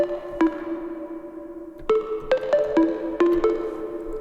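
A Serum synth melody for a house track, tuned to standard 440 Hz, plays plucky bell-like notes in a short rising and falling phrase, each struck tone decaying, heard alone.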